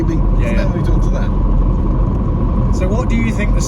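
A car's engine with a failing bottom end and a spun crankshaft bearing knocks under a steady loud rumble close by, while people talk over it.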